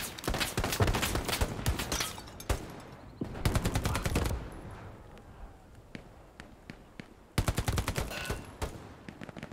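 Machine gun fire in the infantry combat video game Hell Let Loose: loud bursts of rapid automatic shots in several volleys, with gaps between them, a brief voice cutting in.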